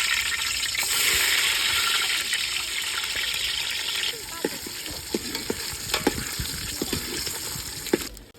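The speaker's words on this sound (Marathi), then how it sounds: "तेल टाकल्यानंतर आपण अंडे मस्त असे तळून घ्यायचे" Cut boiled eggs frying in hot oil in a pan, giving a loud, steady hiss and sizzle that eases slightly halfway, with close clicks and taps of stirring scattered through the later part.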